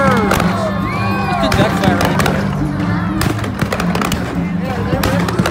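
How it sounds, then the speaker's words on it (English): Fireworks at a Monster Jam All-Star Challenge event, a rapid series of crackling bursts and whistling rockets over constant arena crowd noise, loud and fairly near. "Yay, pretty fireworks."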